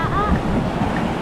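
Large sea waves surge near the shore, a low rushing roar mixed with heavy wind buffeting the microphone, loud and close throughout.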